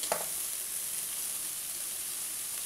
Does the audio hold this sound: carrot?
yes